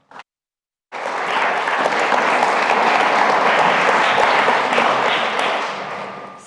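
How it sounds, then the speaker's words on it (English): Audience applause for panelists at an academic event, a dense, even burst of clapping that starts abruptly after a brief silence and holds steady before tapering off. "Please give them a round of applause."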